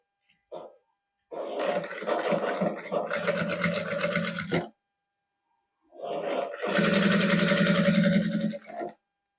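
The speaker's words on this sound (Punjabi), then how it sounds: "ਹੁਣ ਆਪਾਂ ਸਲਾਈ ਲਾ ਦਿੰਨੇ ਤੇ ਸਲਾਈਆਂ ਦੋ ਹੀ ਲਾਵਾਂਗੇ" A sewing machine stitches a salwar in two close, loud runs of rapid whirring, each lasting a few seconds and separated by a short pause, with a brief tap before the first run.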